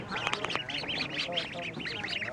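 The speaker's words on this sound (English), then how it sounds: "I found the duck farm." Ducks at a duck farm near Sapa, Vietnam quack in a busy overlapping chorus, close and continuous, with some voices mixed in.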